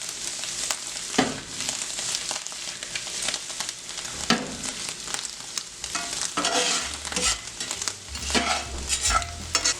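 Mushrooms and garlic fry in a pan for pasta ai funghi, a steady close sizzle broken by repeated spoon scrapes and stirring knocks, with no voices.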